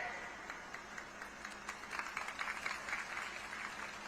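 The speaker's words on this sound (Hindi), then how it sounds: "आपने ताली बजाई" An audience at a political rally in Chhattisgarh claps in a soft, scattered burst of applause heard from a distance, rising slightly midway.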